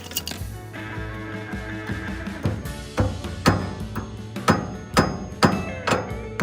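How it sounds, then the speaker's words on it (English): Sharp metallic hammer strikes ring out over a low hum as a cotter pin is driven on a Camaro trailer hitch, a few scattered taps at first, then a steady series of louder blows about every half second, close by. "if I hit the cotter pin, I'd be doing great"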